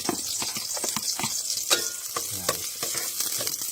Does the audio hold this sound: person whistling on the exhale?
no